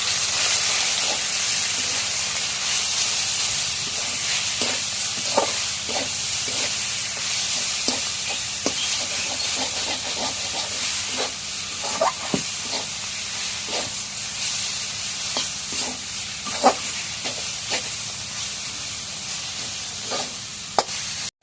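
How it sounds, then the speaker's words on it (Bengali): Greens with chilli, onion and garlic fry in a pan with a steady, close sizzle and hiss, broken by frequent sharp crackles and the scrape of stirring; no voices. "এখন মরিচ পেঁয়াজ রসুন ভাজা শাকগুলো দিয়ে দিই।"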